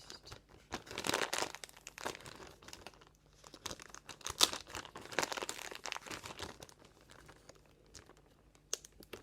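A plastic zip bag holding sugar for homemade ice cream crinkles and rustles as it is zipped shut and handled, in bursts of close, quiet crackling.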